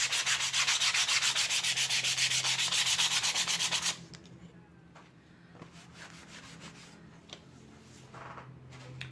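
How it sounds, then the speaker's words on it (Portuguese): Steady, loud back-and-forth rasp of hand sanding on a wooden pallet piece for about four seconds, then quieter, scattered scraping and light taps. "eu vou lixar mais um pouquinho"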